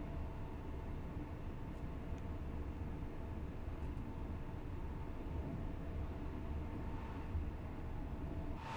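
An LNER Azuma train cruising on the East Coast Main Line in Train Sim World 4 gives a steady, continuous low rumble and rolling drone at even loudness, with faint brief squeaks now and then and no talk.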